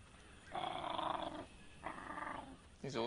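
Several dingo pups growl at one another in low, rumbling bursts while feeding on prey, two longer stretches and a short one at the end, close by.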